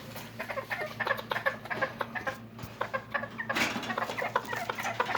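Serama and white silkie bantam chickens, kept in a deep coop, cluck and cackle busily and close by in a steady run of overlapping calls.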